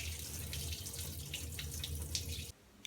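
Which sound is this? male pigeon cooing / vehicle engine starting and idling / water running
water running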